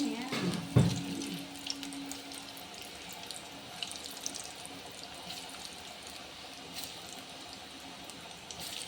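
Water runs steadily from a tap as a constant hiss, with a brief clatter near the start.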